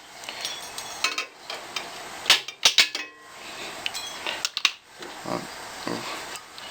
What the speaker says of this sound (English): I'm just going to go ahead and cut this excess off using some tin snips.